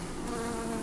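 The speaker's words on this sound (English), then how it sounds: "This, a lot of bees in here." Dense, continuous buzzing of many honeybees in an opened hive during an inspection, close and loud, a steady drone with no other sounds.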